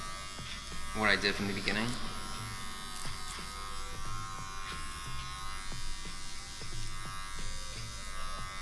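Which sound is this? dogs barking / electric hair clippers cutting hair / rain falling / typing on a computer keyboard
electric hair clippers cutting hair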